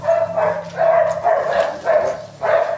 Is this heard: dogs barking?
yes